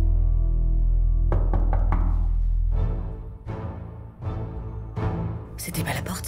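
Several loud knocks strike a door, sharp thuds arriving in irregular clusters over a low music bed, close and prominent with no talking.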